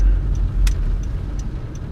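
A car drives slowly up Bourbon Street in the French Quarter on a rainy day, its low, steady engine and road rumble close and continuous, with faint clicks and a brief higher hiss over it.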